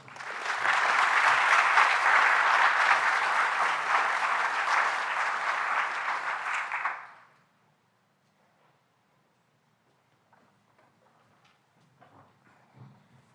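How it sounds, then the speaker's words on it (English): Audience applause at a university awards ceremony for an award recipient, a loud, steady round of clapping lasting about seven seconds, then cutting off into near silence with faint room noise. "A round of applause for Russ."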